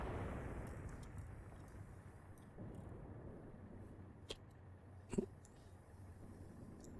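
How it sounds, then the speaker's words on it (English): Gunfire in the Graviteam Tactics war game: two sharp, distant shots ring out a second apart over a steady low battlefield rumble. "Who's shooting back?"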